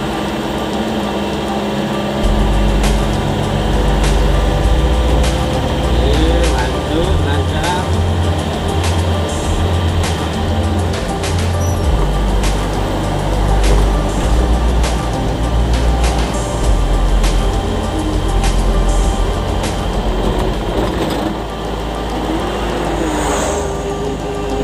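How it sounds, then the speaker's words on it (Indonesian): Cars labouring up a steep, high uphill road on the way into Tuban town, a steady loud rumble of engines and traffic with no talk throughout. "Banyak mobil gak kuat ya, karena tanjakannya tinggi ini."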